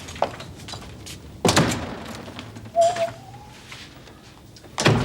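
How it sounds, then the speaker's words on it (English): A door shuts in an indoor scene from the 1987 Neighbours soap opera, heard as a sharp thud after a quiet stretch, with a second knock at the end over faint room noise. "Did I hear the door shut?"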